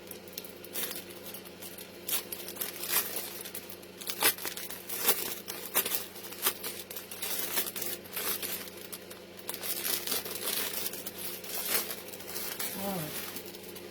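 Plastic bags crinkle and rustle in a steady run of crisp crackles as they are handled close by during a head covering and cap sale, with a voice heard briefly.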